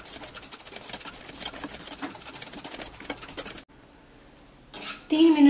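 Coarse semolina roasted in ghee on low flame is stirred with a spoon against the pan, giving repeated scraping and rubbing, then a brief quiet and a voice at the end.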